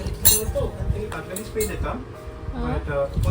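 Metal spoons clink and rattle against each other while being packed into a travel bag, a few bright irregular chinks mixed with handling rustle, heard under continuous nearby conversation.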